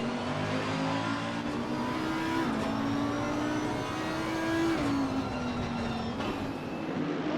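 Mercedes and Audi race cars in a sim racing game rev together in a pack, their tonal engine notes rising and shifting through gear changes, loud and steady without talk.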